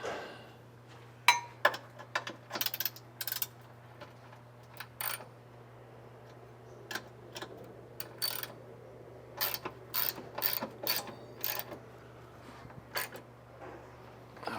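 A ratchet wrench tightens bolts on an Eibach sway bar on a Subaru WRX, making quiet, irregular bursts of clicking under a faint steady hum in a garage.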